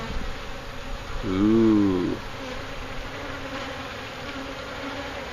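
Honey bees buzz steadily during a hive removal, a close hum with a louder swelling drone as a bee passes near the microphone; one person gives a short exclamation.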